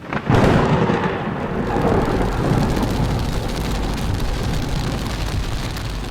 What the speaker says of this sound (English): We got a thunderstorm rolling in.